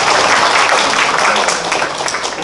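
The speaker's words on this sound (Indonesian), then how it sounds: "Tepuk tangan untuk Bapak Dekan" Seminar audience gives the dean a dense, loud round of applause that holds steady and then tapers slightly toward the end, with no voices over it.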